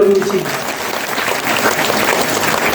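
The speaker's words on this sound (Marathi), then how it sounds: "त्यांच्यासाठी जोरदार टाळी" An audience at a kirtan festival in Dhamangaon claps loudly for the children, a dense burst of applause that follows the tail of a speaking voice.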